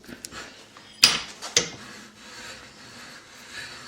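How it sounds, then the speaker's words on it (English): Pen parts are pressed together in a bench vise, giving a few sharp, close clicks and creaks as the vise tightens, followed by faint rubbing and quiet handling. "I'll put it on the bench vise. And just press it in."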